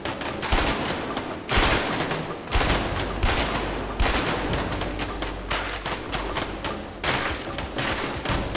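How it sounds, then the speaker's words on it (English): Heavy gunfire in the video game A Way Out, with loud rapid bursts and volleys of shots arriving in quick overlapping waves throughout. "Yeah, keep shooting at me."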